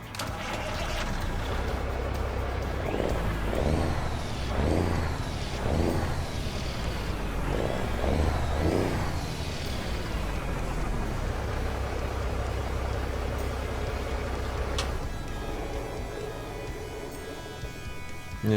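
A Kenworth K100-E truck in American Truck Simulator starts up, the engine cranking with a few rhythmic turnovers before settling into a steady low diesel idle that runs on loud and continuous.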